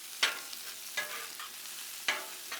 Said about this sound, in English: Stir these veggies now.